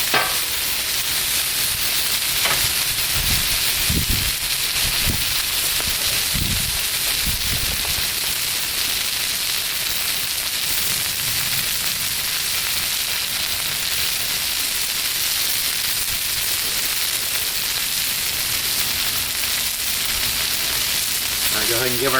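Chicken and tomatoes sizzle on a Blackstone griddle, a loud, constant crackling hiss that holds steady throughout, with a few low thuds and scrapes early on.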